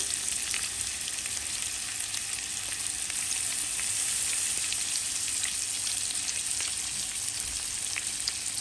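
Taki fish frying in oil in a pan over medium heat, a dense, even hiss of sizzling with scattered small crackles, steady and close, without talk.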